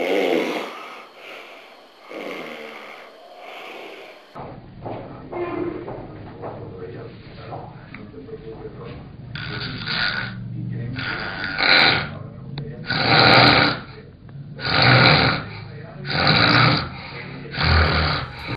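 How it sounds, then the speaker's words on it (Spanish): A simple snorer breathing in sleep, with loud rhythmic snores repeating every second or two over a steady background, preceded by a stretch of quieter noise. "Este es el roncador simple y escucha ahora."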